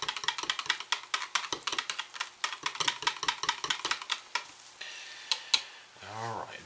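Quick, rhythmic scraping and clicking of a utensil stirring thick soap batter in a container, close up and steady, then slowing near the end.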